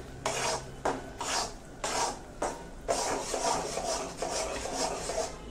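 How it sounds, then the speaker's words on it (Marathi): Wheat flour being roasted in ghee for kada prasad, stirred in a pan with rhythmic scraping and rubbing strokes that repeat roughly every second, close and fairly quiet, with no talking. "आता ह्या तुपामध्ये कणिक भाजून घेते"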